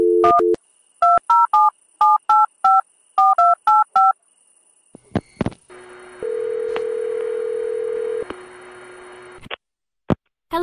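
A telephone keypad beeps out a phone number in rapid dual-tone presses grouped in short bursts, followed by a steady ringing tone and a final click, with no talking.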